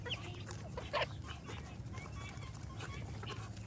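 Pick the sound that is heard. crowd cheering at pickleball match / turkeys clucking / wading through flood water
turkeys clucking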